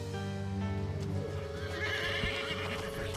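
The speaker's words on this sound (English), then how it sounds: "Toby was now extremely restless and galloping wildly about." A restless horse neighs and whinnies up close, its hooves clip-clopping irregularly as it moves about, with a steady broadband hiss running underneath.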